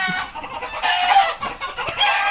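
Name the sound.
chickens clucking and crowing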